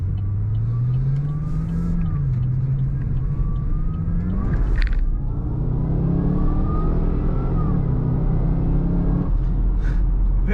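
A 2010 Chevrolet Camaro 2SS SLP ZL550 pulls away on the road, its deep engine note climbing loud and close in a steady rising drone, with a brief gear change around the middle before the rumble carries on.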